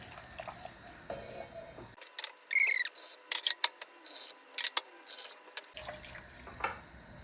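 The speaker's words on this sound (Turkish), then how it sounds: "Ben suyunu böyle süzerek koyuyorum" Broth for Turkish kelle çorba (sheep's head soup) poured through a strainer in a home kitchen: a run of trickling, splashing liquid sounds with irregular bursts and drips, fairly close, with no talk.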